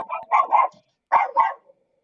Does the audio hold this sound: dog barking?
yes